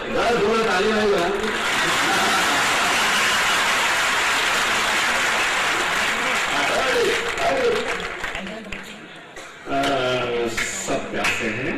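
A crowd at a mushaira, an Urdu poetry recital in Bhadrak, breaks into sustained, dense applause like heavy rain. It fades near the end as a voice takes over.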